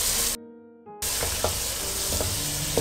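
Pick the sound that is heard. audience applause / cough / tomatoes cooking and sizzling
tomatoes cooking and sizzling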